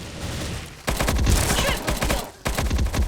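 P90 submachine gun fire in the game Bullet Angel, dense rapid bursts of loud close shots with a brief pause between two long strings.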